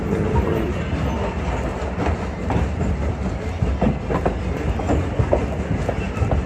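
A Strasburg Railroad train rides along the tracks through farm fields, giving a steady rumble with rhythmic clickety-clack of wheels over rail joints, heard from aboard at a fairly loud level with no talking.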